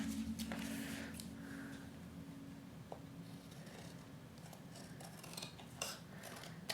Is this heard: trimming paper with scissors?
yes